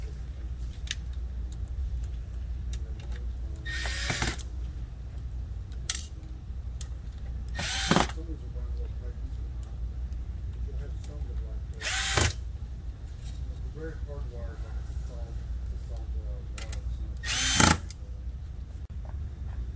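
A power driver whirs in short bursts, four of them spaced several seconds apart, as screws go into the outer corners of a patient display TV chassis during reassembly, over a steady low background hum.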